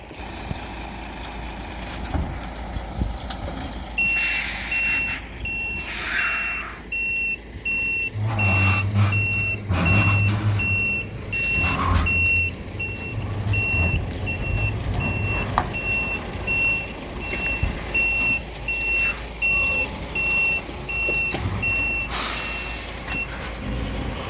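A lorry truck reverses while picking up swap body containers, its reversing alarm beeping steadily and clearly over a low engine rumble, with occasional air hiss and clatter from the truck.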